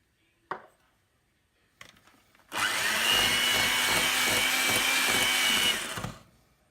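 An electric mixer whisks vanilla buttercream icing made with icing sugar, a loud, steady whir with a rhythmic beat running for about three seconds after a couple of brief knocks, then cutting off.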